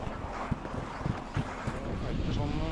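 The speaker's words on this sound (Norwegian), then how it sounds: "endelig er det vind" Wind blows steadily across the microphone in the open air on a Svalbard kite-ski expedition, a continuous rushing roar with a few gusty bumps that stays up close and loud throughout.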